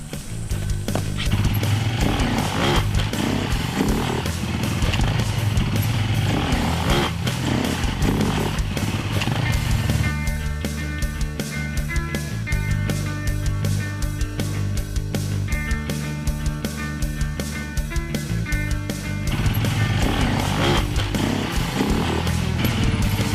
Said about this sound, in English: So what we're going to show now is Brent doing the proper unweighting technique on a big obstacle